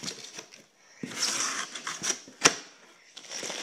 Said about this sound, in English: Let's open the box up.